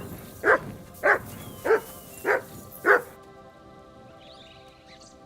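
Dog named Mutt in Kingdom Come Deliverance 2, five sharp barks at an even rhythm, close and loud, followed by quiet ambient background.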